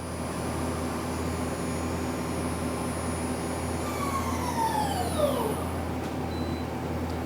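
An Okuma LB-3000EX-II-MYW 800 CNC turning center spindle runs at 3,000 RPM, giving a steady, fairly loud machine hum with a high constant whine. A descending tonal sweep glides down near the end, with no voices.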